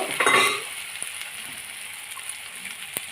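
A ground spice paste for palak paneer hits hot oil with a brief loud sizzle and stir, then settles into a faint steady frying hiss with a few light clinks.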